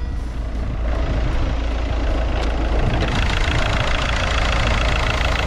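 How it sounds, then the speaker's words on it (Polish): 2007 Seat Leon II 2.0 TDI 140 hp diesel (BMM engine) idling with the bonnet open, a steady low clattering drone heard close up and alone, without belt or tensioner noise. "posłuchajmy sobie, jak ten silnik chodzi"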